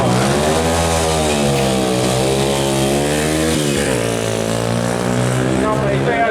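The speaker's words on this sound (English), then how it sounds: "Steve Forton, Ducati Mark III, 250cc, built back in 67." A 1967 Ducati Mark III 250cc motorcycle at a seafront speed trial, a loud, close, buzzing single-cylinder engine held at high revs with a brief dip and rise in pitch partway, steady and dominant throughout.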